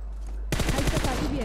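A sudden loud burst of rapid automatic gunfire in the mobile battle-royale game PUBG Mobile cuts in after a quiet half second and keeps going to the end.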